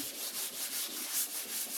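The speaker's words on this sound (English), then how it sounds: "my door stays inside of my sanding block, so I'm not sanding all the primer off of that." Rhythmic back-and-forth strokes of a sanding block on primer on a car door, a close raspy swish repeating about five times a second.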